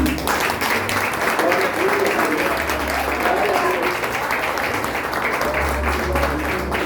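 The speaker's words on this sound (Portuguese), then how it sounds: "Pode aplaudir ao Senhor, hein?" Sustained applause from a church congregation, dense and steady throughout, with a low hum of voices and a few faint calls mixed in.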